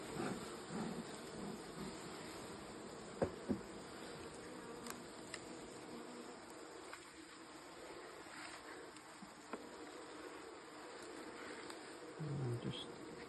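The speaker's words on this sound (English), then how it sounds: "you see there's quite a few bees in here" Honey bees buzzing in an open beehive with the crown board lifted, a soft, continuous outdoor hum with a few brief clicks and knocks of hive handling, fairly faint throughout.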